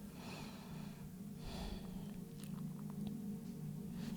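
Slow deep breathing during a seated yoga side stretch, soft airy inhales and exhales rising and falling twice over a steady low room hum, close and fairly quiet.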